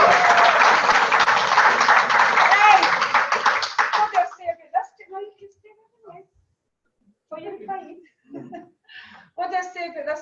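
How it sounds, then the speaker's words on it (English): An audience at a recognition event breaks into a dense round of clapping that holds for about four seconds and then cuts off, after which someone speaks into a microphone with pauses. "you can give them a massive round of applause"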